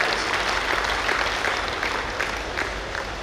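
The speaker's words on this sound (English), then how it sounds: "Please give yourself a big round of applause for that." Audience applause fills the room at a Rotary International district event, a dense, steady wash of clapping throughout with no voices above it.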